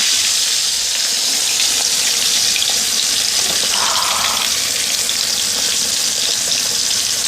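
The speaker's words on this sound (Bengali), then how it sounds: "এগুলোকে এখন উল্টে পাল্টে ভালো করে ভেজে নিতে হবে ব্রাউন কালার করে।" Chicken leg pieces deep frying in oil give off a dense, loud, unbroken sizzle and bubbling hiss, steady throughout with no one talking.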